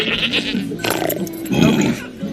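Goat bleats in a short, wavering burst, followed by a second louder bleat, heard fairly close with a little background noise.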